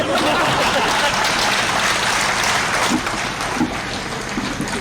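Audience applause at a Hindi comedy poetry recital, a dense, steady wash of clapping that fills the room and eases off slightly toward the end.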